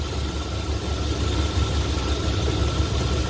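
A 2003 Chevrolet truck with a 6.0L engine idling low, a steady dense rumble with strong low throb, close and unbroken throughout.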